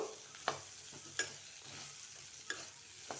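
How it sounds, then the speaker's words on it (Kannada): Pumpkin fries in oil in a pan with a steady close sizzle, while a utensil stirs and scrapes it in four or so sharp, evenly spaced strokes. "ತುಂಬ ಟೈಮೇನು ತಗೊಳ್ಳೋದಿಲ್ಲ, ಬೇಗ ಫ್ರೈ ಆಗ್ತದೆ ಇದು."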